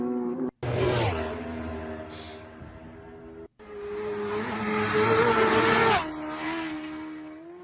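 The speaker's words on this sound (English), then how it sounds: "Just flyby after flyby." Racing motorcycles at the Isle of Man TT roar past one after another, loud and close, with rising and falling engine whines. Two brief gaps of silence split the passes.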